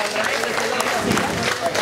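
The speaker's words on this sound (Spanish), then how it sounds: "Fuerte el aplauso para los niños de educación primaria." At a mayor's public event in Ayutla handing out support to students, the crowd claps briefly for primary school children, with dense clapping mixed with voices.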